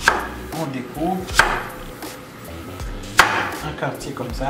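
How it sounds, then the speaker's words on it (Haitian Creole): A knife cutting cucumber on a board in a home kitchen, a few sharp chops spaced out over several seconds, close, with faint background noise. "On découpe"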